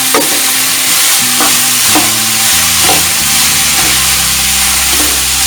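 Dragon chicken, Kerala style, is sautéed in a pan with a loud, continuous sizzle. Stirring scrapes come every second or so, with stepped musical tones playing underneath.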